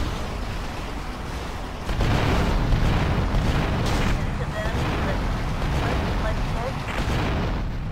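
Grenade blasts in Grand Theft Auto Vice City, with a heavy booming burst that swells and then holds as a dense, rumbling roar, while a voice talks over the noise.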